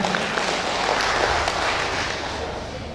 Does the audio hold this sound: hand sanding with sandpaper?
no